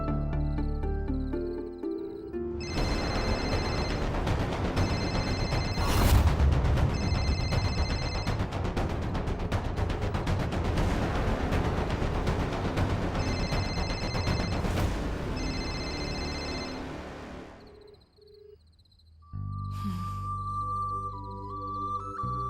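A telephone rings out while a call is being placed, a loud sustained electronic ringtone in repeating bursts that runs for about fifteen seconds before cutting off, with quieter tones on either side.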